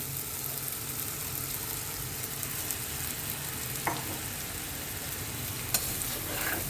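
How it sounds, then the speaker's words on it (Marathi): Sago pearls sauté in oil over a low gas flame, producing a constant close hiss with a couple of sharp clicks from stirring. "साबुदाणे परतून घ्यायचे आपल्याला"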